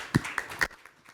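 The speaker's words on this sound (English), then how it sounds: "let's have a round of applause for Deepit" A few scattered claps from an audience at a corporate tech conference, three or four distinct hand slaps close together that quickly fade into quiet.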